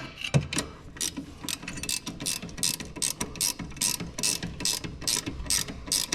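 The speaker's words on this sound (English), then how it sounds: "I love speed ratchets." A speed ratchet spins while fitting a Brembo big brake kit on a Z31 300ZX, producing a rapid run of sharp, close clicking bursts in an uneven rhythm, with no voices.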